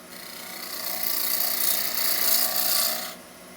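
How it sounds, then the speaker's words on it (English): A wood lathe runs with a steady broadband whir and rasping, holding level for about three seconds before cutting off abruptly near the end, close and moderately loud with no talk. "So always feel where I'm going to start from before I start the lathe."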